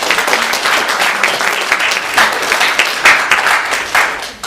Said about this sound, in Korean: 다 같이 박수로 축하하도록 하겠습니다.